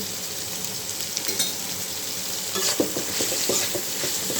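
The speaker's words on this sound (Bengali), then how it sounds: "এগুলো সব একসাথে ভালো করে ভেজে" Vegetables with turmeric and salt sizzle steadily in hot oil while a utensil scrapes and stirs against the pan in short, intermittent strokes, close and moderately loud.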